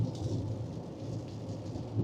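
Heavy rain pours down during a thunderstorm on a remote road trip, a steady dense roar with low rumbling thunder beneath it, loud and continuous throughout.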